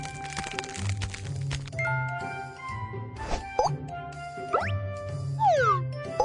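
Cartoonish game effects for squeezing and shaking a disposable instant ice pack: pops, cracks and crinkles with a few rising and falling whistle-like tones over a soft background melody.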